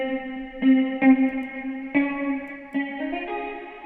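Guitar chords run through a Super VHS lo-fi plugin in an FL Studio Afrobeats production, strummed several times over a few seconds with a warbly, chorus-like wash and soft reverb tails, playing alone.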